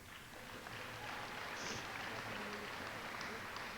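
Scattered applause rises and holds at a graduation ceremony during the reading of graduates' names, a faint, distant wash of clapping in a large hall with some murmuring underneath.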